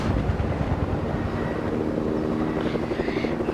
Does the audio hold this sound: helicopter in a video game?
yes